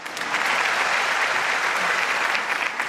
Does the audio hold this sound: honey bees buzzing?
no